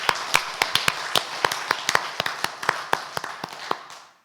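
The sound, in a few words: applause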